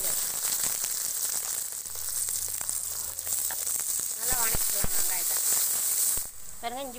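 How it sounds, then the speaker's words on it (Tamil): Mustard seeds, cinnamon, chilli and onion sizzle and crackle steadily in hot oil for a mutton bone fry, a continuous hissing fry with scattered pops and a voice briefly heard over it. "எண்ணெய் காஞ்சிச்சு, கடுகு சேர்த்துக்கலாம் பாருங்கள், பட்டை வகை சேர்த்துக்கலாம், மிளகாய் சேர்த்துக்கலாம், வெங்காயம் சேர்த்து"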